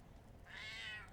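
A single cat meow, fairly faint against a quiet room, rising and falling over about half a second with no talk.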